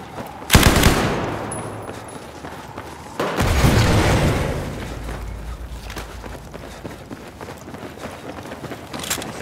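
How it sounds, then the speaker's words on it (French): Gunfire in a first-person shooter game, including shots fired through a wall: a sharp loud burst, a second heavy volley with rumbling decay, then quieter scattered shots and movement. "il vient de te tirer à travers du mur"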